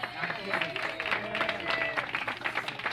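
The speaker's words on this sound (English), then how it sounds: "I just want to give a round of applause to Rich for everything he does." At a Kiwanis Club of San Diego birthday luncheon, diners give a round of applause for a member, with a crowd clapping under overlapping voices and a faint tonal hum in a busy banquet room.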